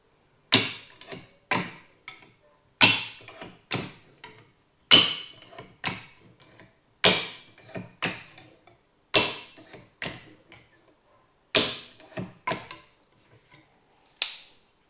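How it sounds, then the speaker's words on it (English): Hand panel punch tool driving holes along the edge of a sheet panel: sharp metallic snaps, each followed by a short rattle, repeat about once a second in a steady line, close and loud, with no voices. "You can see how easy it is to punch a line of holes along the edge of this panel."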